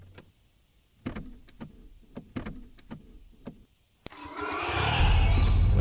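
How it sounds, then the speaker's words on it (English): In a horror video game, someone seems to be trying to get into a truck: a series of irregular knocks and clunks, then a sharp click and a rising, loud rushing roar. "It just sounds like someone's trying to get into the truck."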